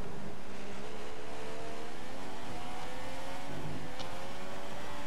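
A Formula 1 car in the F1 2015 racing game at the Bahrain circuit during practice, its engine droning and revving steadily with shifting pitch throughout, heard fairly faint and without talk.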